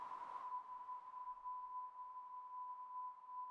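Low-pass filtered noise generated in SuperCollider narrows into an almost pure, steady sine-like tone with a faint hiss scattered around it, holding constant and quiet throughout with no speech.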